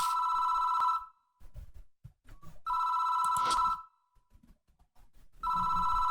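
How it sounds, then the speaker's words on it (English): A telephone rings in a video game, three loud electronic trills of about a second each separated by short gaps, with soft clicks and small noises in between. "It doesn't seem to want to stop ringing, so I reach for the phone."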